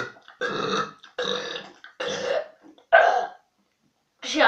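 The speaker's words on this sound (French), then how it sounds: "je peux enchaîner des petits rots" A person burps several times in a row, a string of short, close, voiced belches separated by brief silences.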